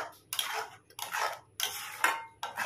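A chhana and mango mixture is stirred in a pan for a sweet, giving five separate scraping strokes in a steady back-and-forth rhythm, close and fairly quiet.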